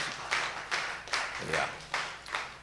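A church congregation claps together in steady rhythm at a Sunday service, six or so crisp, fairly close claps landing roughly every 0.4 seconds over a low background murmur.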